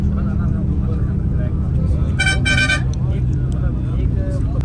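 Inside a Faisal Movers bus pulling out of Islamabad, a dense, steady engine and road rumble fills the whole stretch, broken midway by two short, bright horn toots.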